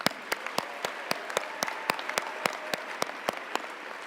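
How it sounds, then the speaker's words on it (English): Sparse, evenly spaced sharp claps ring out at an Arkansas Women's Hall of Fame induction ceremony, roughly a dozen distinct hand claps over a quiet room, moderately near and steady. "give them a little round of applause"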